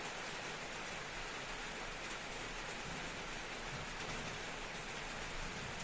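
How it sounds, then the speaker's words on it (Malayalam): Rain falls steadily as an even, faint hiss of drops on surfaces, continuous and without voices. "ഞാൻ ഇപ്പോൾ വീഡിയോ എടുക്കുന്ന സമയത്ത് മഴ പെയ്യുന്നില്ലേ?"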